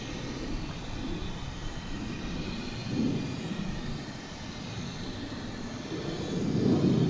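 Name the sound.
airliner taking off to Las Vegas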